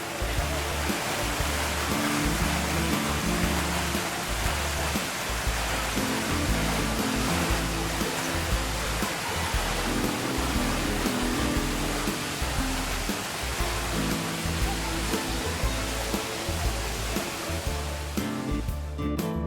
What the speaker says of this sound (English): I remembered this chess water cascade very well